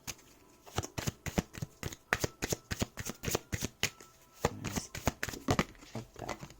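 A deck of cards is shuffled by hand up close, a rapid run of crisp riffling bursts and soft slaps repeating in quick succession.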